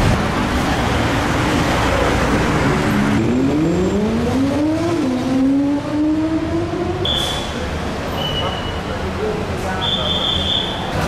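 Traffic at the Ekkamai bus terminal in Bangkok, where a vehicle's engine is heard revving and rising in pitch over a constant loud street roar, followed by a few short high beeps.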